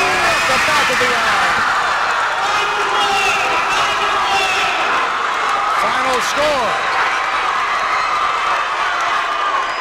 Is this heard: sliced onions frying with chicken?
no